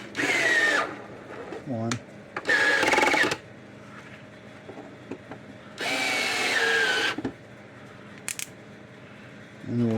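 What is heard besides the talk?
driving screws with a power drill into a solar fence charger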